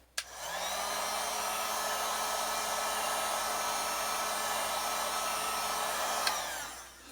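Heat gun warming vinyl wrap on a car hood, a steady close blowing whir that runs continuously at even loudness for several seconds before cutting off, with a small click near the end.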